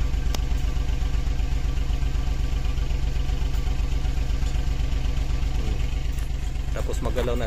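A Suzuki DA64 minivan engine idles with a misfire, its steady loud chugging broken by uneven gaps and a knocking, irregular beat throughout, with a few faint clicks near the end.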